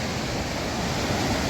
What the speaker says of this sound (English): This one's Spiller Creek. Absolutely raging.